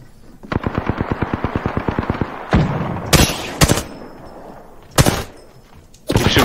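Gunfire in the Apex Legends video game: a rapid automatic burst of evenly spaced shots, then several loud, sharp single blasts, all close and dominant with no talking over them.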